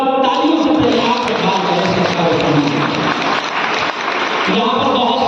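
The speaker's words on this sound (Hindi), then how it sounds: "जोरदार तालियों से प्रयास" A hall audience at a community education foundation event applauds, loud dense clapping from a crowd that stays full and continuous, dipping briefly before swelling again, with some voices mixed in.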